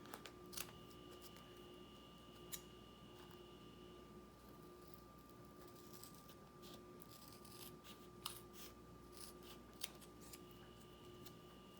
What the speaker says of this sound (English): take our scissors, and cut out the shape